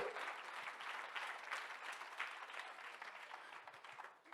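Audience hands clapping at a talk, a dense and even patter of applause heard faintly and at a distance for about four seconds, with no speech over it.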